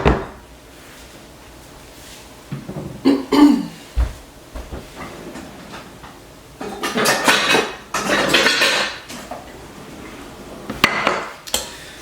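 Sourdough tortilla dough of flour and water is mixed in a bowl with a dough whisk, with scattered knocks and clatter followed by bursts of scraping and stirring.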